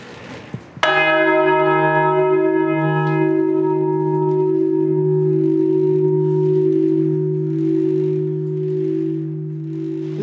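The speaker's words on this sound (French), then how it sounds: "quand on a l'occasion de monter dans le clocher, on sonne la cloche" A church bell named Gabriel Antonia is struck inside its bell tower in the Limousin, a single loud clang followed by a long, humming ring that decays slowly with a gentle beating pulse.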